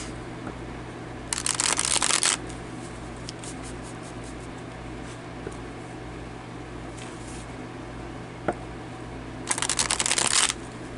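Tarot cards being shuffled, two distinct riffle bursts about a second long each near the start and end, close and crisp, with quiet handling noise between.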